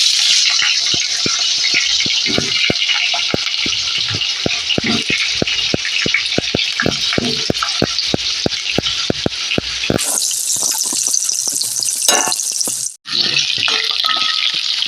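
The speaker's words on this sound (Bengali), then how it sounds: "তেল গরম হয়ে গিয়েছে, আর আলুগুলোকে ভেজে নেব।" Potatoes fry in hot oil with a loud, continuous hiss close up, broken by regular clicks of stirring, then the sizzle shifts to a rougher roar near the end.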